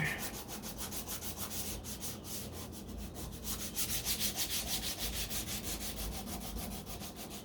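Close, rhythmic back-and-forth sanding strokes rasp steadily against a 1969 Corvette C3 body panel, repeating in a brisk even pattern.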